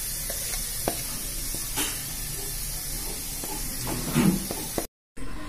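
Soft sizzling of a garlic mixture in a pan with occasional scraping stir strokes, a gentle hiss throughout and a brief louder stir before a short cut.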